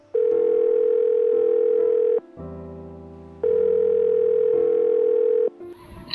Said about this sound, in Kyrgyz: Абыл Кутман досунун үйүнө телефон чалды